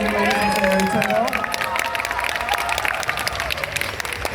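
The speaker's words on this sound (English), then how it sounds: "Let's give it another round of applause for the amazing ladies in Fairytail." Applause from a convention panel audience, honoring a Fairy Tail guest panel, fills the room with dense clapping mixed with crowd noise and overlapping voices, steady and fairly loud throughout.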